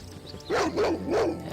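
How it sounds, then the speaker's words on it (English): A dog in the video game Baldur's Gate gives three quick barks, moderately loud over a steady background drone of game ambience. "there was another dog"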